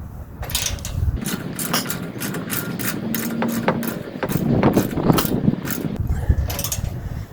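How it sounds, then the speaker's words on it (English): Ratchet driving Torx screws into the rear bumper of a 1997–2003 truck, with rapid close clicking bursts separated by short pauses and some handling clatter. "finish screwing these in"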